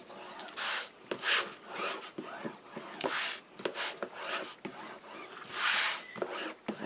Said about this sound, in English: Give everything a really nice, good burnish.